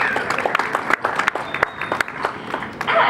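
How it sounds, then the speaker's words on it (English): Audience applauding at a beluga whale show at the Vancouver Aquarium, steady crowd clapping with sharp individual claps standing out, loud and continuous with a faint voice underneath. "let's give them a big welcoming round of applause"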